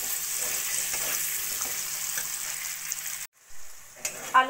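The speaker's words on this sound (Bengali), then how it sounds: "এবার আলুগুলোকে ভালো করে সোনালি করে ভেজে নেব।" Potatoes fry in oil over a low flame until golden, giving a steady sizzle with light stirring clicks for about three seconds. The sound then cuts off abruptly and is followed by a few faint handling knocks.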